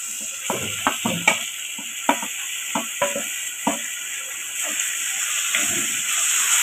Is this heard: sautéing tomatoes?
yes